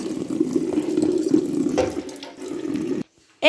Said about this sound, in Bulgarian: Сипахме тук малко вода, вижте сега като стана.